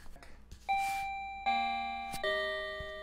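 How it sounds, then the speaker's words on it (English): A wireless driveway alarm, triggered by motion, rings a clear electronic doorbell chime of three bright ringing tones in quick succession, each decaying slowly in a quiet room. "What that sound was is right here. It's like a doorbell."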